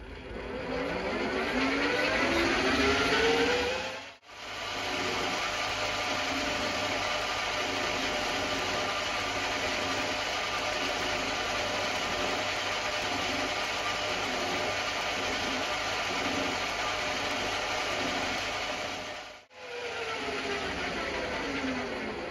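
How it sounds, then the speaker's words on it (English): A gunmetal part for the front bogie of a 2½-inch gauge live-steam LBSC Atlantic model locomotive is machined with a steady, close mechanical drone and grinding rasp. The sound is interrupted by two brief silent gaps. "What I will be cutting to is a little bit of footage I took when I was machining this."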